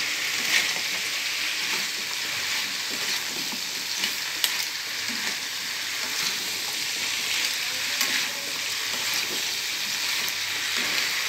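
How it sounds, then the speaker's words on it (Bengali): Fried crab sautés with potatoes and spices in a pan, a constant close sizzle with the scrape of occasional stirring running evenly throughout, no voices. "এবার আলু আর মশলা সব দিয়ে একসাথে কাঁকড়া দিয়ে কষাচ্ছি"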